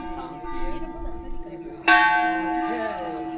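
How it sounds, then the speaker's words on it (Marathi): A large temple bell struck once with a sharp clang, its deep resonant tone ringing out and slowly fading, while a lingering earlier hum sounds faintly beforehand, near Kathmandu, Nepal. "घंटी तर खूप मोठी आहे लोक घंटी वाजवून आतमध्ये दर्शनासाठी जात आहेत"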